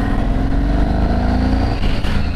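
A Yamaha MT01 motorcycle with a 1670cc engine revs loudly and steadily up close, its deep exhaust drone holding throughout, with a brief rough crackle near the end.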